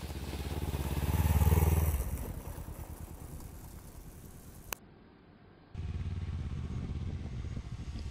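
Motorcycle engine on a road, swelling to a loud pass with a rough revving drone, then fading and dropping out briefly before a steady engine hum resumes.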